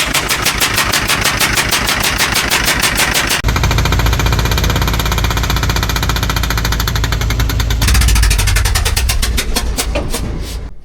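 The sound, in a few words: diesel ATV engine knocking after a glow plug blew out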